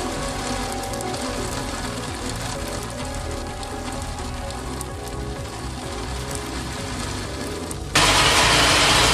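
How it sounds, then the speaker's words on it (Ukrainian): Dense, steady rain drums on a hard corrugated roof, a constant hiss and patter that grows suddenly louder and brighter near the end. "Такий дах виробляє в три рази менше шуму під час дощу."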